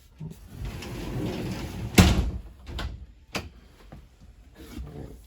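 A sliding shower door in a 2020 Sunseeker 3050 RV rolls open with a sharp knock and latch clack midway, followed by a few lighter thuds and rattles, close up inside a quiet bathroom.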